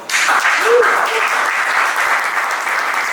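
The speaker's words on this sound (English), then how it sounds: "Give him an applause." Conference audience at a Vienna Blockchain Week crypto tax panel breaks into steady applause for a panelist, a loud, even wash of clapping lasting a few seconds with a brief voice at the start.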